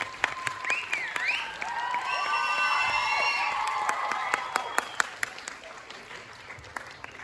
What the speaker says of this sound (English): can you give a big round of applause for Andrew Garfield